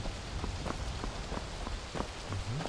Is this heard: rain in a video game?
yes